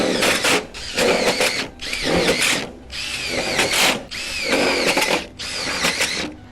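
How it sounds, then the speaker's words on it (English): A power drill whirs loudly in repeated bursts, revving up and down as wafer-tech screws are driven into a metal shed frame during garage assembly, close and alone. "just need to put a wafer-tech screw in those"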